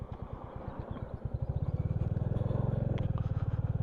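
A Royal Enfield Classic 350 motorcycle being ridden during its running-in period, the single-cylinder thump at first slow and separate, then quickening into a steady close pulsing rhythm as it pulls away.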